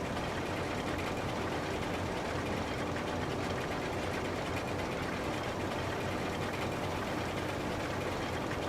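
Steady, dense tractor engine drone in Farming Simulator 25, a continuous loud mechanical hum with an even rhythmic chug and no talking.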